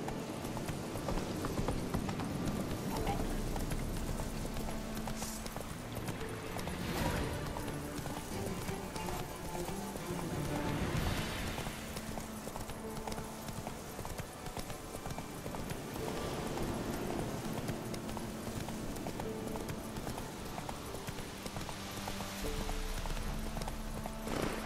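Roach the horse gallops through The Witcher 3, hooves drumming in a continuous fast clip-clop, close and prominent, with a neigh and game sounds mixed beneath.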